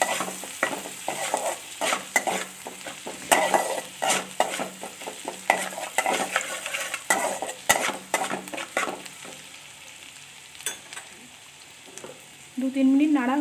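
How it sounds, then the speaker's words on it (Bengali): Chopped green chilli stirred and fried for a spicy chicken soup, busy sizzling broken by repeated scrapes and clinks of a spoon against the pan, close and lively, easing off near the end. "একটা কাঁচা লঙ্কা কুচি, দু তিন মিনিট ভালো করে নেড়ে নিতে হবে"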